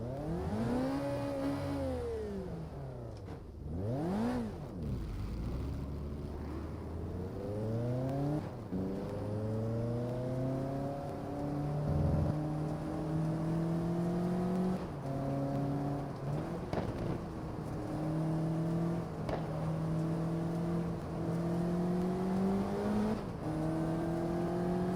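A race car engine laps the Nürburgring in GT Legends, revving hard through the gears with repeated rises and drops in pitch, loud and close, the engine note climbing and falling as it shifts and brakes.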